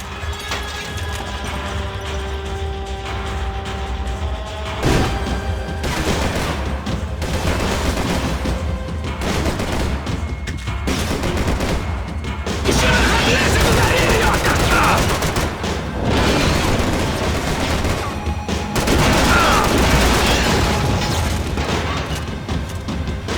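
Gunfire in the video game Max Payne 3: volleys of shots, booms and rapid bursts crackle through a sustained firefight, loud and dense, with occasional game voices.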